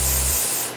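A short, close burst of hair spray from an aerosol can, a dense steady hiss that fades out quickly.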